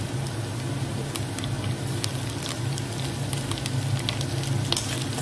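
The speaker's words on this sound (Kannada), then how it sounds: "ಸೊ ಕ್ಯಾಪ್ಸಿಕಮ್ ಹಾಕ್ತಾ ಇದ್ದೀನಿ." Capsicum sizzles and crackles in a hot pan, a loud steady frying hiss with scattered pops, close up and without talk.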